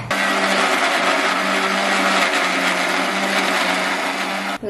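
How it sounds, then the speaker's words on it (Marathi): A mixer grinder whirs loudly and steadily as it grinds onion and tomato, then cuts off abruptly just before the end. "आता कांदा आणि टॅमॅटो जो होता ना तो वाटून घेणार आहे"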